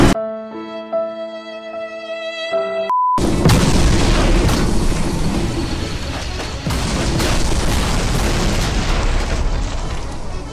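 In a video game, explosives thrown into a burning incinerator go off in one sudden deep blast after a short musical chime. A long, loud rumbling roar follows and stays dense to the end.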